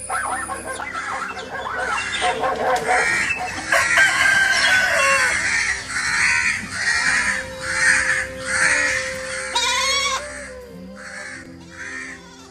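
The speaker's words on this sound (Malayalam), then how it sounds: "പക്ഷികൾ കൂട്ടത്തോടെ ചെറുക്കുകയും ചെയ്യുന്നത് കേൾക്കുന്നുണ്ടല്ലോ" A flock of chickens clucks and squawks excitedly and continuously, with a rooster crowing loudly among them, all close by.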